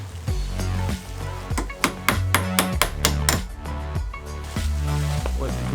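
A clip is tapped onto a CV joint boot during installation of Porsche 944 CV joints on a VW Vanagon, giving a series of sharp metallic taps and clinks close up, with low rumbling background.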